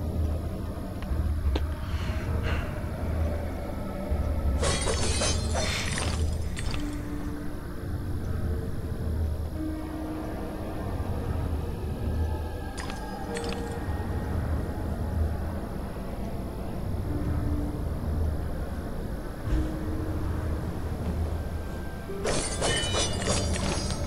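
Shards shattering in the video game Alice: Madness Returns, several sharp bright bursts of breaking crystal spaced apart over a low droning game ambience.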